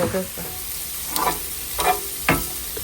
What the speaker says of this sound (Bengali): আমি একটু পেঁয়াজ অ্যাড করছি একটু ভাজা পেঁয়াজ মজাই লাগে